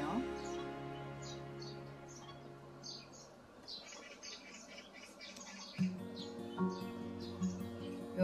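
Short magpie calls ring out several times over a background of a voice talking, a few sharp chirps spaced apart toward the end.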